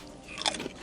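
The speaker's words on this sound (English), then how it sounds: "Carson deployed the sleight of hand from his magician days to fake a loud crunch" A single short, faint crunch faked by sleight of hand, a quick crisp crackle like something being bitten, heard alone.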